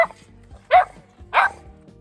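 An eight-week-old puppy gives two sharp, high barks about half a second apart in a played-back recording, each bark short and close with quiet gaps around them.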